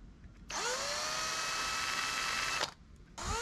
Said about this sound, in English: Drill it off the motherboard.